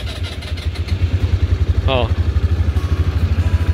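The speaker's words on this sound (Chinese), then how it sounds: "然后我现在骑我们 日农这台 IE250 哦，我也放在 L 档哦， 然后我们发动" A Nichinong IE250 farm transporter engine fires up and settles into a loud, steady, rapidly pulsing idle, close to the microphone, with a brief voice heard over it.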